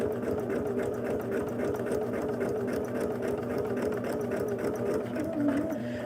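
Sewing machine running steadily while stitching a quilt seam along a paper foundation line for a double wedding ring quilt, a continuous close whirring hum with a fast even rhythm and no talk.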